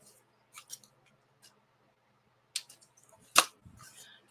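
Scissors snip through paper in a few sharp, close bursts spread across a quiet stretch, with a louder final cut near the end followed by soft rustling.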